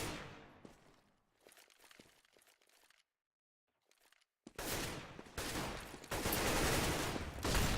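Gunfire from Counter-Strike on the Cobblestone map bursts out loud and dense in rapid volleys after a quiet stretch broken by scattered crackles and brief hits, with no talking.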